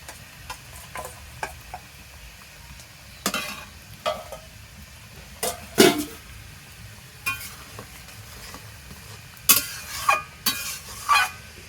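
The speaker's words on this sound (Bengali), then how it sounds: "এবার ঝোলটা ফুটে উঠেছে" Bengali hilsa fish curry gravy with slit green chilies boils in a pot, giving soft intermittent pops, ticks and bubbling bursts over a faint low simmer, with no voices.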